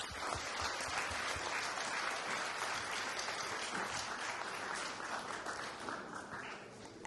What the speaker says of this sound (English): please join me in giving everyone who contributes to the school a round of applause